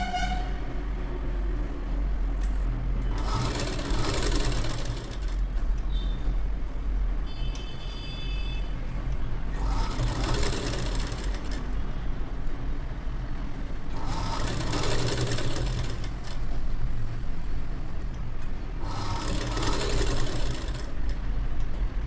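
A sewing machine stitches a blouse in several short bursts of rapid mechanical chatter. Each run lasts a second or two, with pauses between them over a constant low hum from the motor.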